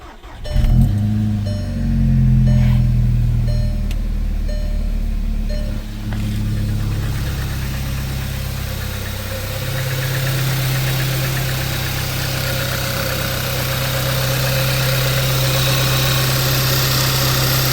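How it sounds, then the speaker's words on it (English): A Porsche Cayman 987 engine fires up from a cold start in freezing weather, with a loud initial crank and catch, then settles into a steady, close idle with a low, even drone. "now this will really be a cold start because it's been like 28 degrees all day today"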